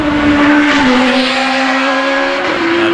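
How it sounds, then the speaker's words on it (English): A Force PC hillclimb race car with a naturally aspirated Hayabusa engine racing at Shelsley Walsh, its loud, high-revving engine howling steadily close by, with the pitch dipping and climbing again as it changes gear. "Force PC with a Hayabusa engine, as far as I can tell."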